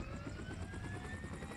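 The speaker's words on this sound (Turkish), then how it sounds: "Helikopteri çalıştırmasaydınız abi ya." In PUBG Mobile, a helicopter's engine runs with a loud, continuous rotor chop and a rising turbine whine, close and steady with no talk.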